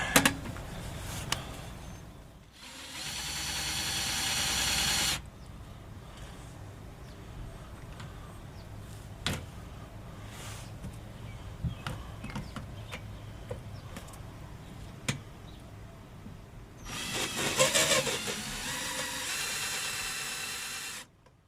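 A power drill bores holes into an RV frame for mounting a sewer hose carrier, with two loud high-pitched bursts of drilling separated by a long stretch of quieter handling and clicks.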